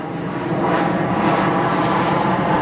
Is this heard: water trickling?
no